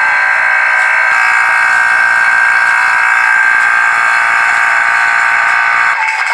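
A vacuum pump evacuating a chamber during a gold foil ball experiment, giving a loud, steady droning hum that holds constant without pause.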